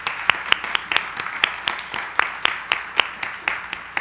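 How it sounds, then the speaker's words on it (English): Sparse applause at a spiritual center service, individual hand claps spaced irregularly and fairly close, a small audience clapping briefly with no voices. "Can we please give them a round of applause?"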